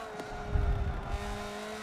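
A race car engine in a Forza endurance race, a close, steady droning whine with low rumbling surges as the car powers out of a corner, with no talking.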